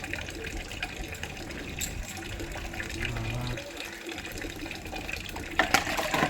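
Water runs steadily from a tap or shower for a night-time bath, a continuous splashing wash close by with brief voices over it.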